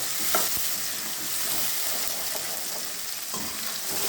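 Tomato paste sautéing in a pan, a steady broadband sizzle with soft stirring scrapes and a few brief clicks of the utensil, close and continuous with no talking.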